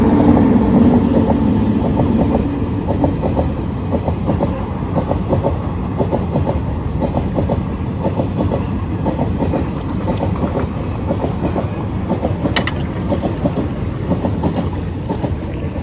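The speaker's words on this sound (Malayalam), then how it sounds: "ഇവിടെ നിർത്ത്, ട്രെയിൻ അവിടെ നിന്ന് വരുന്നത് കാണിക്കാം" A train near Kollam rumbles past steadily, its wheels clattering in a dense, continuous roar that stays loud throughout, with a brief sharp screech near the end.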